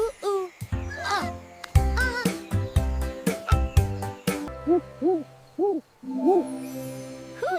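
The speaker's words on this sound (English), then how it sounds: "It's an owl." An owl hoots in a children's animal sound quiz: a series of short rising-and-falling tonal hoots at moderate loudness, following a stretch of dense, bouncy cartoon-like sounds.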